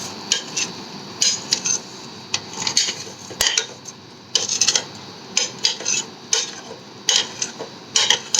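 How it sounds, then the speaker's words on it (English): Fried vermicelli tipped into a cooking pot for sweet sheer khurma, heard as repeated metallic clinks and scrapes of a utensil against the pot, close and fairly loud, in irregular bursts with no talking. "Now I shall add this fried vermicelli to it."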